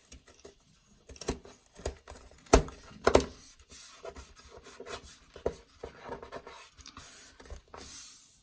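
A USB grommet is pushed and worked into a drilled hole in an Ikea desk, making scattered close rubbing and scraping sounds. Two sharper knocks stand out in the middle.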